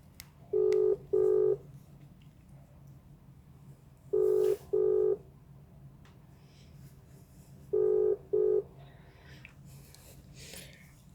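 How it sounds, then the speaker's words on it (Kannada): Telephone ringback tone heard through a phone during a prank call, three pairs of double rings spaced a few seconds apart over a faint background hiss, with no one speaking. "ಪವಿತ್ರ ಪವಿತ್ರ ರಿಂಗ್ ಆವೊಂದುಂಡು."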